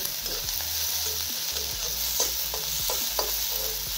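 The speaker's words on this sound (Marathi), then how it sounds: "मस्त असं मिक्स करीत राहायचा सारखा, हाताचं बंद ठेवायचा म्हणजे एकसारखा कांदा चौकून सगळा सारखा भाजला जातो" Chopped onions stirred and roasted in a pan for a Marathi vegetable dish, with a constant close sizzle and regular soft scrapes of the spatula and a low hum underneath.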